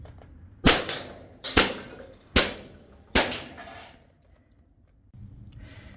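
A Sig Sauer 1911 CO2 BB pistol, Fallout edition, fires solid steel BBs at cans: four sharp, loud cracks spaced under a second apart, each with a short decay, then quiet room tone.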